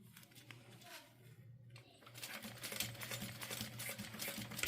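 A sewing machine back stitches fabric along a quarter-inch seam, running in a steady, fairly quiet whir that grows a bit louder partway through, with no voices.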